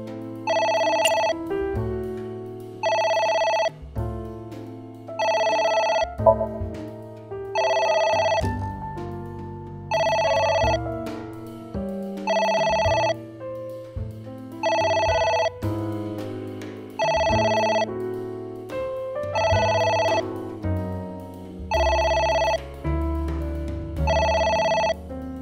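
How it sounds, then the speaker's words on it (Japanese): A telephone rings in the video game AI: The Somnium Files, an electronic ringtone sounding in about eleven evenly spaced bursts with short silent gaps between them, loud and clear with nothing else over it. "また電話だ。"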